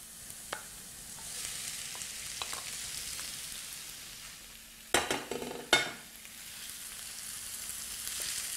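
Pork and beef mince fries with softened onion in a pan, a steady soft sizzle broken by a few sharp scrapes and clatters of stirring in the middle, with no talk.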